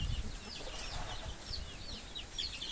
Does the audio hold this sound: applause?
no